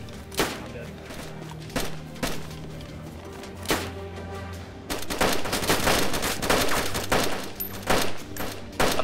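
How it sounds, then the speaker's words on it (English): Gunfire in DayZ from a Mosin rifle and other weapons, first as sharp single shots spaced a second or two apart, then as denser overlapping cracks, with players talking throughout. "Who's shooting Mosin?"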